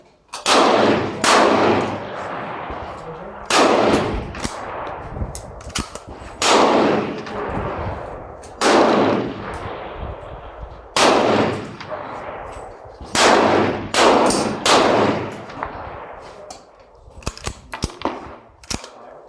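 Rifle shots from a CZ 527 at an outdoor range ring out about a dozen times, loud and sharp, some in quick pairs and others spaced a few seconds apart, each leaving a short decaying echo.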